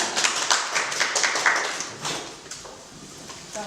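Scattered clapping from a small group at a press conference, a few seconds of uneven hand claps that thin out and fade toward the end.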